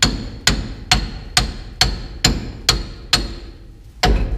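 A ball peen hammer strikes truck axle parts in a regular series of nine sharp metallic blows, each about half a second apart, loud and close with brief ringing decay.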